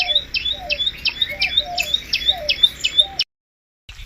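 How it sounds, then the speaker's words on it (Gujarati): A bird calling near a river, a rapid series of sharp, high chirps repeated in a steady rhythm for about three seconds, clear and fairly close, with faint background noise and no talking. "આ પક્ષી બોલે"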